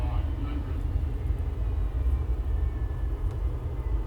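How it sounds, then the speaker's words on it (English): Simulated airplane in the X-Plane 11 flight game coming in to land, a steady low engine drone with slight swells as the throttle shifts, loud and continuous with no voices. "I'm gonna let the aircraft land all by itself."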